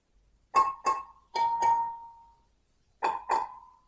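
Three pairs of bright metallic pings from motorcycle wheel spokes being tapped, each tap ringing briefly like a small bell, with one pair sustaining a longer tone; quiet between strikes.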